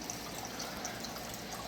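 Water trickles and drips steadily in a pumped water system, a faint, continuous gurgle with light splashy drips and no voices.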